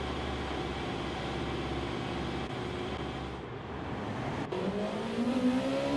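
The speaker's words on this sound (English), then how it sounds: "Here's some of the driving I'll give you in the rain." A car driving on a wet track in heavy rain in Gran Turismo 7, with a steady engine drone under a wash of spray noise and a rising engine pitch as it accelerates near the end.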